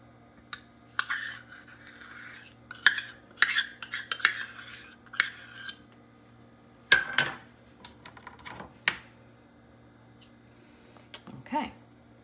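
Almond butter being worked into mashed bananas in a bowl with a utensil, heard as uneven bursts of clinking and scraping with quiet gaps between them. The sounds are close and no one speaks.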